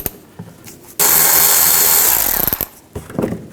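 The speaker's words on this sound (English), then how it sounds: "Use the T20 socket to get this bolt out and this one over here." A power tool with a T20 socket spins out a wheel-well bolt on a 2009-17 Chevy Traverse, a loud close whir of about a second and a half that stutters and stops, followed by faint handling noises.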